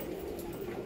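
Pigeons kept in a large double-deck cage about eight feet long give a soft, steady, low coo that runs for a short moment, close by and moderately loud, with no talking.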